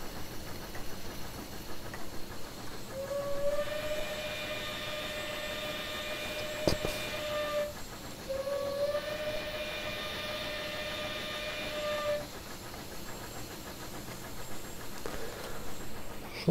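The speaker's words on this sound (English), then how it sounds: "See how far away we can hear that whistle." A steam whistle sounds twice on a PRR I1 2-10-0 Decapod locomotive in Train Simulator Classic, two long harmonic blasts of about four seconds each over a low rumbling hiss, heard from some distance.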